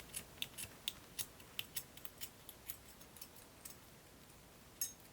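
Scissors snip crochet yarn close to the mic on a cotton bag project, a quick series of crisp, light clicks and snips in an uneven rhythm over a quiet background, with no talking.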